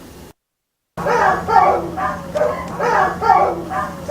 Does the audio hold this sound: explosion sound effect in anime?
no